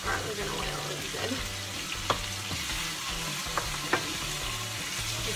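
Lean Angus ground meat frying with garlic and oil for a meat sauce, a continuous moderate sizzle with a few sharp utensil taps and a music bed underneath.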